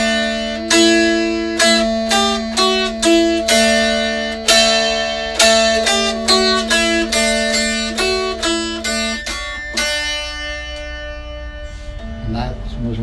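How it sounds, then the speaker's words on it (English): In Joralemon Cave, Arlin Pound picks the old tune Go Tell Aunt Rhody on his dulcimer, a quick run of close, bright plucked notes over a constant droning string, the phrases flowing steadily before the final notes ring out and fade. "the old tune, Go Tell Aunt Rhody, which sounds something like this."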